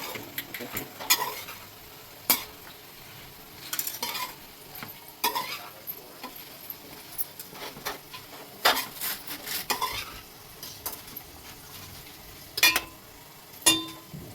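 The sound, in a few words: frying onions for gongura prawns curry in a pan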